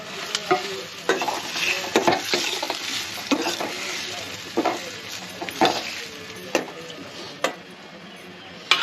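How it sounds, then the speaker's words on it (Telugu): Tomato pieces fry in a pan of oil and are stirred, producing a continuous close sizzle broken by repeated scraping and tapping strokes of a spoon against the pan. "ఇప్పుడు ఈ టమాటా ముక్కల్ని వేసుకుంటున్నాను దీంట్లోనే"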